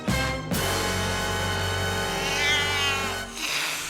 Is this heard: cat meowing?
yes